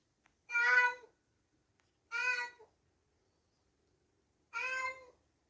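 A cat gives three loud, drawn-out meows, each about half a second long and spaced a second or two apart, with near silence in between.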